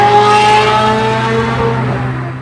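A Ferrari 355 fitted with Tubi and Capristo exhaust revs close by, its engine holding a loud, steady high-pitched wail with clear harmonic tones that slowly shifts and eases toward the end; no talking.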